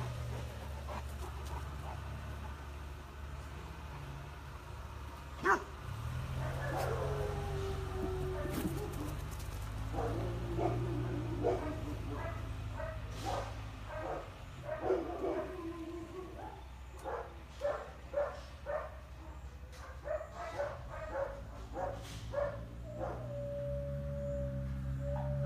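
A Great Dane lets out a run of deep barks and howling yelps indoors, scattered bursts building into a rapid, rhythmic series toward the end, with no talk over it.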